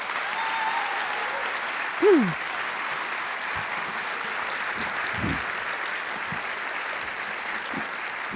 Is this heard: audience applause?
yes